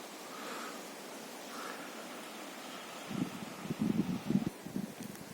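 Steady wind noise rushing through a pine forest in Khmelnytskyi Oblast, Ukraine, with soft rustling and a few low, close thumps near the end.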